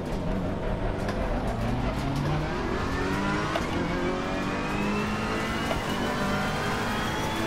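A race car engine in Assetto Corsa Competizione drones steadily through a lap on track, holding a loud, continuous high-revving tone with shifting pitch and no pauses.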